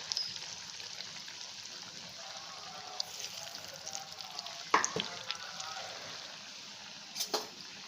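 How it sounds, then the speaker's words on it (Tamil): Vada deep frying in hot oil, a steady close bubbling fizz with a couple of sharp clinks as pieces are turned, and faint talk in the background. "2 பக்கமும் கோல்டன் கலரில் ஆனதுக்கப்புறமா எடுத்துட்டோம் அப்படின்னா நமக்கு சூப்பரான கிறிஸ்பியான வடை ரெடி ஆகிடும்."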